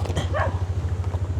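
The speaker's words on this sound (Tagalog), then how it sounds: "habulin yata tayo ng aso" A dog barks once amid steady low engine rumble while riding in a tuktuk at night, the short bark standing out briefly over the constant motor drone.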